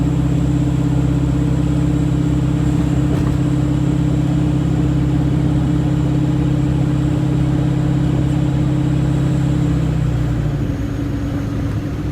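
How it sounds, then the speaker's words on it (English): A supercharged automatic Foxbody car's engine holds a steady, loud, close drone while cruising, then the tone drops and eases as it falls back toward idle near the end, with no voices. "Notice how the car transitions from cruising to idle with no issues at all."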